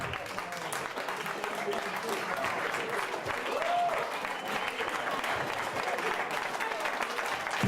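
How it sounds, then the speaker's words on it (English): Wedding guests applaud the bride and groom at a reception, a dense, steady wash of clapping that runs the full length at close range, with a few voices mixed in. "Big round of applause."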